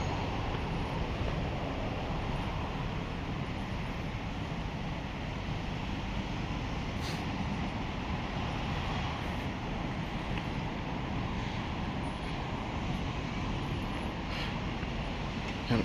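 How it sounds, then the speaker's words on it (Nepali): Wind blows steadily across a quiet hilltop in Japan, a constant broad rushing roar buffeting the microphone for about sixteen seconds with no voices. "मिठो हावा चल्छ क्या यहाँबाट"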